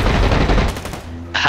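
Weapon fire in the online shooter Blacklight Retribution, a loud dense burst of rapid shots filling the whole moment, close and without talk.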